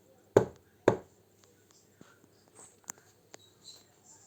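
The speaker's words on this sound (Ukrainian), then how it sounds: "А скільки разів я постукаю, слухайте." Two sharp knocks on a hard surface, evenly spaced about half a second apart, loud and close in a children's counting game, followed by faint small taps and rustles.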